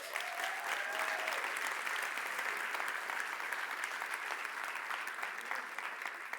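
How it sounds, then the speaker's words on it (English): Steady audience applause at the Scratch Conference Europe 2019 presentation, a continuous crowd of clapping hands at moderate level, holding evenly throughout without talk. "we should give him a little round of applause"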